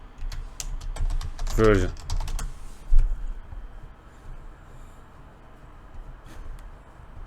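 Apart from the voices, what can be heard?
typing on a computer keyboard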